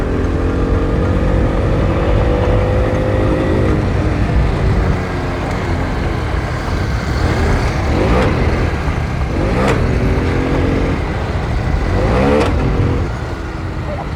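A Honda CBR 300 motorcycle engine drones loud and steady through the whole stretch, with rising rev sweeps between gear changes and a dip in power near the end.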